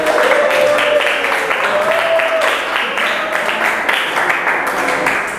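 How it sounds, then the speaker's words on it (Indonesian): A grade 11 class claps for a classmate, steady and fairly loud applause running throughout while a voice speaks over it. "beri tepuk tangan buat teman kita"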